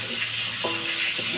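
Mushroom cake sizzles and fries in a hot pan for yellow mee, a steady hiss broken by brief scraping stirs, close and continuous.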